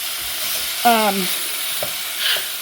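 Thinly shaved steak in a Mongolian beef marinade browns in a hot pan with a steady, close sizzling hiss. A brief squeaky tone and a couple of faint taps are heard partway through.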